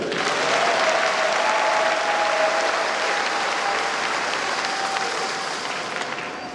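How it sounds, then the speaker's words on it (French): A congregation at a Catholic Charismatic Renewal jubilee gathering applauds for the Lord, a dense, sustained wash of clapping that stays loud throughout and eases slightly toward the end, with a faint sung or held tone underneath. "Applaudissez pour le Seigneur."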